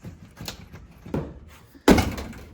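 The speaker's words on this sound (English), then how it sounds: "And now my door won't shut." Metal door on a rusty 1982 Ford Bronco thunking against its frame without latching: a few soft knocks, then one loud slam, close by with no talking.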